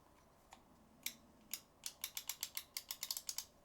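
Drag clicker on a Piscifun Alloy M aluminium fishing reel, freshly reassembled with its drag star, ticking in a quickening series of crisp, close clicks that start sparse and speed into a rapid ratchet run.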